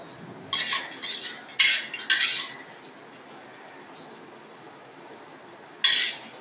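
A spoon scrapes and clinks against a pot while khuska rice is mixed with oil, ghee and spices, giving a few separate bursts of stirring between quiet pauses.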